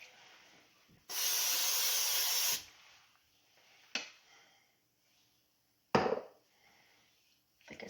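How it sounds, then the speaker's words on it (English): A cooking oil spray hisses onto a pan in a single sharp burst of about a second and a half, followed by quiet kitchen clatter and a couple of brief knocks. "And now I'm going to spray my pan first,"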